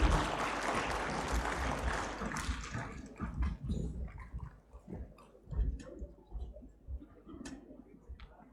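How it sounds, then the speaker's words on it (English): An audience at a felicitation ceremony claps, starting as a loud, dense burst of applause that thins after a few seconds into scattered, uneven claps. "Please give a huge round of applause."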